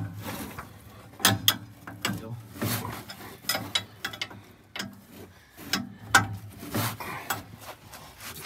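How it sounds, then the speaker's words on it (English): A ratchet clicks in short, irregular bursts as a brake spring on a Scenicruiser bus is cranked back by hand, the sharp metallic ticks close and clear against a quiet background. "you're manually cranking the spring back inside there"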